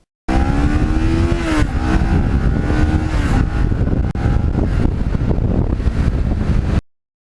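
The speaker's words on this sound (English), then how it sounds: "And I just never get sick of going through the gears on this bike." A restored thirteen-year-old Kawasaki Ninja motorcycle roars close by as its engine climbs through the revs. Pitch rises and drops at each gear shift, all under heavy wind buffeting, before the sound cuts off abruptly.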